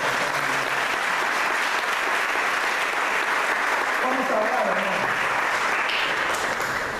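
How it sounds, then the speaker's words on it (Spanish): Congregation applauding throughout a church service, steady and dense, while a preacher speaks over the clapping. "No sé si le da un fuerte aplauso al Espíritu Santo"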